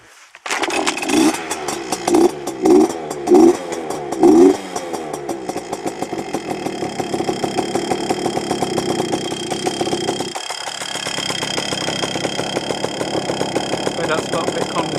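Heavily modified Yamaha PW80 two-stroke dirt bike with FMF parts, started with a few sputtering bursts and then settling into a steady, loud, raspy buzzing idle close by, with a brief dip near the end.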